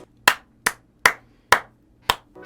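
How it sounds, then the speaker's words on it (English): Five sharp, isolated claps ring out one at a time at a slow, slightly uneven pace, each crisp and close with a short decay, against near silence. "Round of applause. Clap, Tiki."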